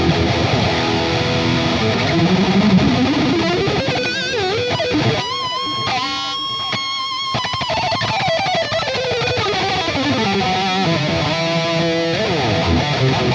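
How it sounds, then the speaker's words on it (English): Electric guitar played through distortion, a sustained driven tone with shifting chords and single-note lines running steadily for the whole stretch with no talking. "As I was playing guitar just now"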